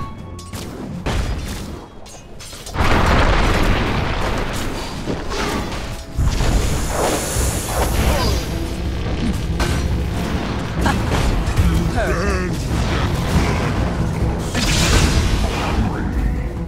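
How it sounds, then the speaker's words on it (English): A tower comes under attack in Dota 2, with continuous loud crashing hits, whooshes and booming impacts of battle layered over one another, and a voice breaking in now and then. "Dire's middle tower is under attack."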